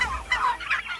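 A flock of about 5,000 heritage breed turkeys, two to three months old, gobbles nearby on a farm in a dense, warbling chorus that fills the whole short moment.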